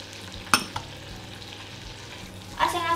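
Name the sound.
onion sautéing in melted butter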